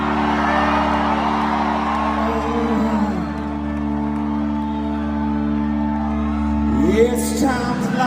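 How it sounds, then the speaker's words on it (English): A crowd at a live post-pandemic concert whoops and cheers loudly and steadily beneath sustained music and singing, with a brief louder swell of shouts near the end. "Listen to him singing to the crowd and how appreciative the crowd is just to be there."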